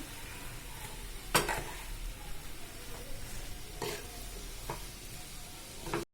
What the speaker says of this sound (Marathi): हे आपल्याला छान असं मिक्स करून घ्यायचंय.